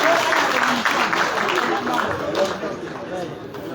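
Audience applause at an awards ceremony, a broad wash of clapping and crowd noise that gradually tapers off, with a voice audible over it.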